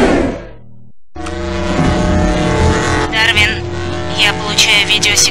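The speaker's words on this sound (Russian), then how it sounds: "Бластер, давай заводи мотор" In a video game cutscene, a car engine starts up and revs as the vehicle drives off, with a loud, steady motor drone layered under dialogue and music.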